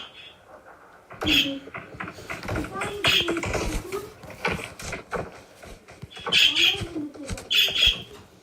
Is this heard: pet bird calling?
yes